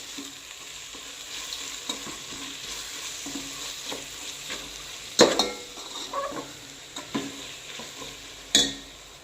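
A spoon stirs tomato rice with chilli powder in a frying pan, making soft sizzling under several sharp scrapes and clinks of the utensil against the pan.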